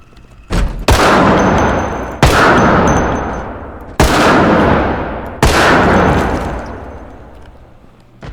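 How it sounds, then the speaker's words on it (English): In the video game Project Zomboid, a gun empties a magazine down hallways: four loud, close shots, each ringing out in a long echoing tail before the next. "let's just use up a magazine full of bullets"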